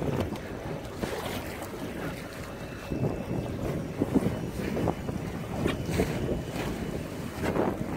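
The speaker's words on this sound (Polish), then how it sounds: "płyniemy pod wiatr, który wieje dość mocno i płyniemy 7 na godzinę" A boat fully loaded with gear motors upwind at about 7 km/h against strong wind, with constant gusting wind noise buffeting the microphone, water slapping at the hull and a steady low engine drone throughout.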